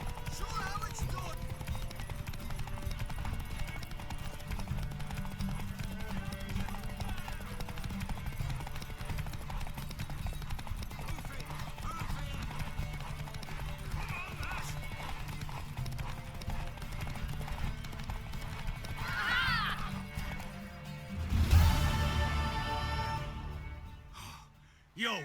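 Horse hooves clip-clopping in The Witcher 3 video game, a steady rhythmic trot under game music and ambience that lasts throughout, with a louder burst near the end.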